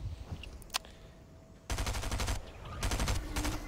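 Gunfire in a Fortnite match played in VR: a single sharp shot, then two loud rapid automatic bursts of about a second each, separated by a short pause.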